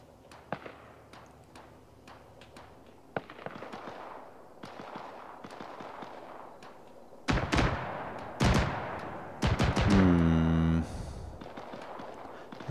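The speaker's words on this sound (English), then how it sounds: "somebody's shooting over in that direction, so there could well be more guys" Gunfire in the video game Arma 3, scattered distant shots early on, then loud close bursts of automatic fire near the end.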